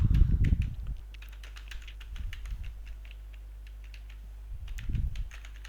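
Short bursts of typing on a computer keyboard, light quick taps close by with pauses between them, over a steady low electrical hum and some soft rustling.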